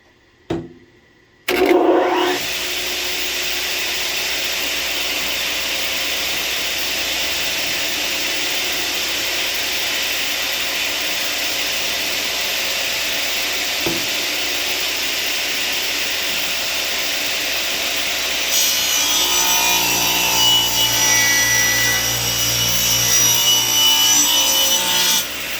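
Radial arm saw switching on and running, then biting into a wooden corbel: a sharp start, a long steady motor drone, and a brighter, louder cutting rasp toward the end, with no speech.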